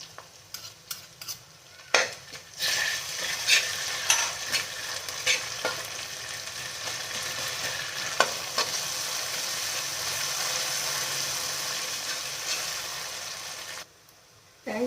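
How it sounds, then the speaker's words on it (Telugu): Ginger garlic paste sizzles and fries in a hot pan, with steady crackling and occasional stirring scrapes, loud and continuous for most of the span before cutting off near the end. "ఇది వేగాక అల్లం వెల్లుల్లి పేస్ట్, ఇలా ఈ గ్యాప్లో అల్లం వెల్లుల్లి పేస్ట్ వేస్తాం."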